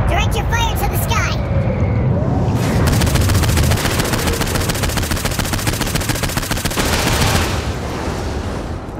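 Sustained video-game gunfire from Saints Row IV aimed skyward at UFOs, a dense rapid-fire rattle of automatic weapons with booms, loud and continuous throughout, with voices in the game mix underneath.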